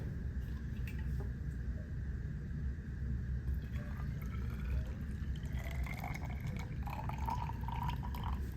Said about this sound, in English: I'm gonna pour in my hot water.